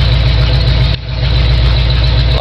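A 1974 Ford F100 truck with a 351 Windsor V8 and open headers roars loudly up close in a steady, throbbing exhaust drone, dipping briefly before surging back to full volume.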